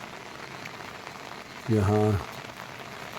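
Heavy, non-stop rain pours down in Uttarakhand, a steady dense hiss that runs throughout, with a brief loud voice breaking in near the middle.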